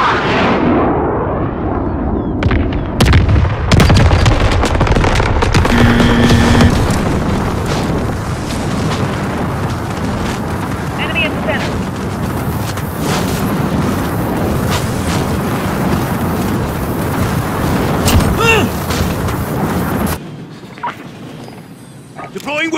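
Heavy bomb-strike explosions in the Call of Duty video game, deep booming blasts rolling on continuously and loudly, with voices calling out over the rumble before it cuts off near the end.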